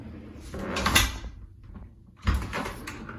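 A door swings shut with a towel draped over it, a muffled rubbing thud followed after a pause by a second soft bump and scuffing as it latches.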